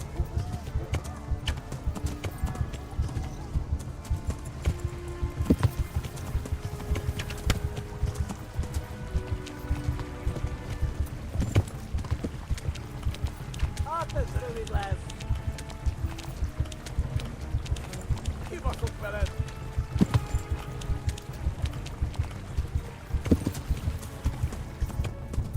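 Hooves pound in a fast, continuous clip-clop rhythm in the video game Kingdom Come: Deliverance, several horses galloping at close range, with occasional snorts and brief voices mixed in.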